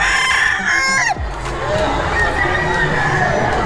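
A gamefowl rooster crows loudly and close at a game farm convention at the SMX Convention Center. The crow falls off after about a second, leaving a busy hall murmur of crowd noise and other birds.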